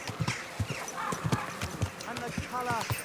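A horse clip-clopping along at a walk with a faint whinny, the rhythmic hoof beats close by while a person speaks over them.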